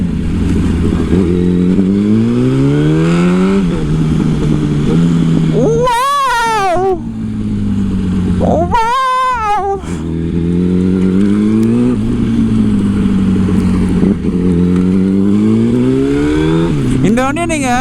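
A 2008 Yamaha R1 sport motorcycle engine accelerates repeatedly, its pitch rising through gear after gear in loud, close sweeps, broken by brief gaps and a few sharp rev bursts between shifts.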